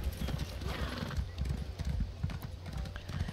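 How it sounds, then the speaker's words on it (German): A horse gallops in The Elder Scrolls Online, quick rhythmic hoofbeats clopping steadily up close and fairly loud, with a brief whinny-like tone, no talking over it. "Reiten wir doch mal gerade dahin."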